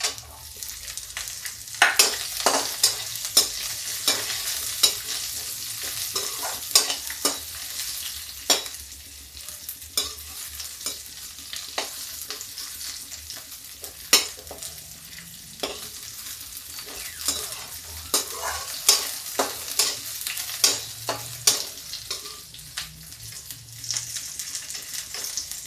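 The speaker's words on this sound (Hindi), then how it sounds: "ज़्यादा मुझे प्याज नहीं भूनना है, थोड़ा ही भूनना है।" Large chunks of onion and whole garlic fry in oil in a pan, a steady sizzle lasting about 25 seconds, broken by frequent scraping stirs and occasional utensil clinks, with no one talking.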